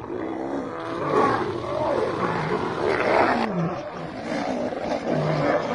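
A lion roars in the Maasai Mara savanna, a powerful, deep, rumbling roar that is loud and sustained, swelling and falling in repeated surges with no voices heard.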